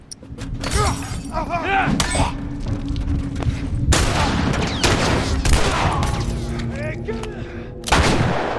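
Gunfire rings out in The Last of Us as a run of sharp shots and heavy blasts with echoing tails, mixed with metallic clatter and game effects, while someone talks over the action.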